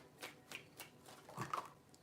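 Tarot cards are shuffled by hand in a few quiet, quick riffling bursts, soft and close, with faint handling rustle between them.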